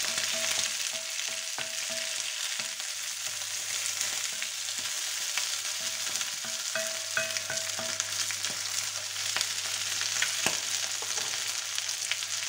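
Meat browning in a pan for paella, a steady close sizzle and crackle of frying running continuously with occasional stirring scrapes, no talking.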